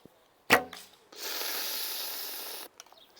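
An arrow shot from a Falco Myth bow strikes the target with one sharp, close thwack. After a short pause comes a sustained hissing rush, then a few faint clicks.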